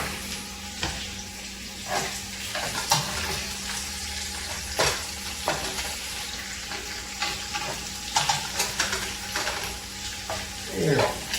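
Country potatoes and bacon fry in a pan with a steady close sizzle, punctuated by repeated scraping and clinking of a utensil stirring and flipping the food.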